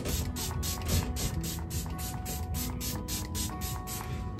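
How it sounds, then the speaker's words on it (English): Make It Last setting spray mists in repeated short bursts, a rhythmic series of close, hissing pumps with faint mechanical clicks, no voices. "a layer of Make It Last, so setting spray, like a really sealing setting spray under"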